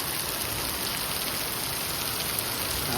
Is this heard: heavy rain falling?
yes